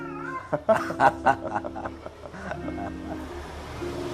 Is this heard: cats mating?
yes